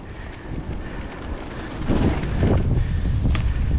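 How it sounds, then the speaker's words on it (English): Strong gusts buffet the microphone while mountain biking down a bike park trail, a loud broadband roar that swells and thickens halfway through, with faint clicks and rattles underneath and no talking. "I nearly got blown off of one of the jumps. The wind's so heavy."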